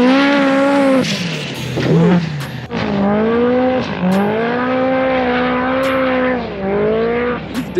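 A Packard Performance four-seater off-road vehicle lands a jump and lifts into a wheelie, its engine holding a steady loud roar that rises and dips in pitch with throttle, close and continuous.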